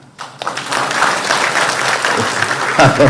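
A room of listeners breaks into applause at a Bangladeshi home minister's press briefing, a thick steady patter of clapping rising quickly and holding, with talk mixed in near the end.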